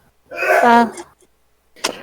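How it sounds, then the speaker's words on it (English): A single close, voiced sneeze followed by a short sharp breathy burst, with silence between. "what you snorting over there make you sneeze like that?"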